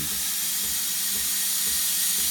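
A coffee machine's steam wand hisses loudly and continuously up close, a steady broad rushing jet of steam with no break and no talk.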